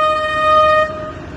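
A train horn sounds a single loud sustained blast amid stalled city traffic in Iraq, then cuts off, leaving low street rumble.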